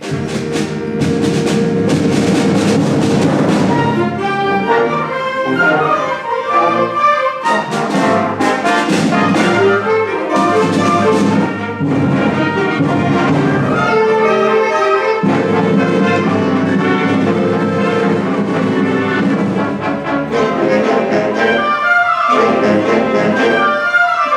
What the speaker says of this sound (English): Let's do everybody together. Fast. This is the whole band.